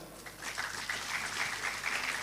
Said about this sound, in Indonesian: Masih boleh tepuk tangan